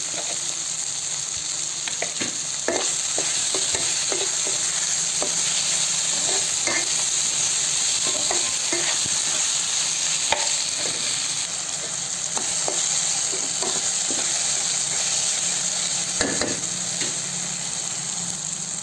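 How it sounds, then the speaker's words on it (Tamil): Masala for chicken gravy sizzles steadily in a pan while a spoon stirs it with frequent scraping clicks, close and continuous for the whole stretch with no talking. "கொஞ்சம் மெத்துன்னு வர மாதிரி நம்ம கலக்கணும்."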